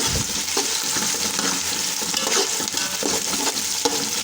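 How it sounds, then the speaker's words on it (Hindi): Onions frying in mustard oil give a steady, close, broad sizzle with faint stirring scrapes underneath, unbroken by speech. "प्याज डाल देंगे और फिर इनको ब्राउन कर देंगे। ये मैंने प्याज डाल दिए"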